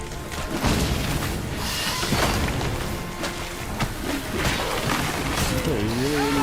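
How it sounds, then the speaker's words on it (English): Bomb blasts boom in The Witcher 3: Blood and Wine during a tournament fight, dense thuds and crashes layered over game music and combat noise, with a voice talking over the mix. "Bombs, bombs."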